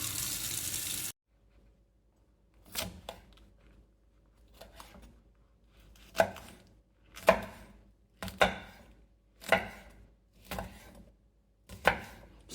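A knife scrapes the scales off a fish being prepared for Jamaican fried fish. About nine crisp, separate strokes come at a fairly regular pace, close and clear over a quiet background.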